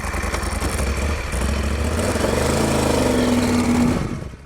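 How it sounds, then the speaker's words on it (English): A motorcycle engine revs up steadily, its rough throaty roar climbing in pitch and holding loud and close before cutting off abruptly at the end, with no voices over it. "I love the feel of those engines. When you rev it up, it moves sideways."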